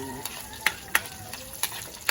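Sardines sizzle in a hot pan, with a steady frying hiss broken by several sharp crackles and pops, and faint clatter from stirring.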